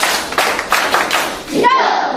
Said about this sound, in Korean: 집중 부르라 근데 집중 이런 사람이 집중 박수 시작.